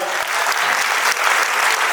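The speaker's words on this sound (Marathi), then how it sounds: "वाबळे साहेबांसाठी जोरदार टाळ्या वाजवा." Loud, sustained applause from a large audience at a cultural festival in Pune, dense steady clapping filling the whole stretch without pause.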